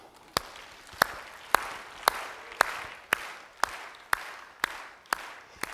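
A church audience claps together on a steady beat, sharp unison claps landing about twice a second with a roomy echo and no talking over them.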